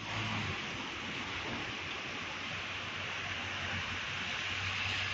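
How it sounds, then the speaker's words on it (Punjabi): Steady rain falls with a constant, even hiss that stays unchanged from start to finish, a soft wash of sound with no voices. "ਬਾਰਿਸ਼ ਹੋ ਰਹੀ ਹੈ ਇੱਥੇ ਇਸ ਟਾਈਮ।"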